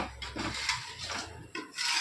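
Spoonfuls of chicken biryani mixture are scraped from a vessel into a pressure cooker, making a close series of metallic scrapes and clinks with soft wet thuds between them.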